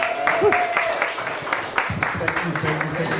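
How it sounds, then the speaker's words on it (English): Audience members at a talk on compassion give a short round of applause, the clapping fairly light and mixed with voices speaking over it. "give a round of applause to Bobby one more time"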